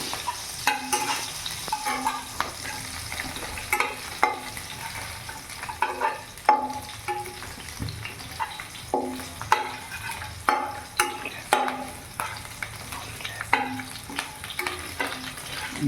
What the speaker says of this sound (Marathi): गॅस फुल फ्लेमवरती मी आता फ्राय करतो याला.